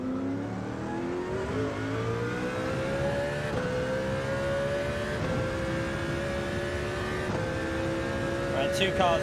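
Race car engine in the Gran Turismo 7 video game revving and accelerating steadily through the gears, a loud, continuous rising drone with brief shift breaks, alone without talk.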